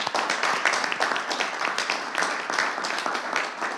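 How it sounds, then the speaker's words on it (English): An audience at a scholarship awards night applauds the winners, a steady, dense patter of many hands clapping close and even throughout, with no talk. "Let's give them a round of applause."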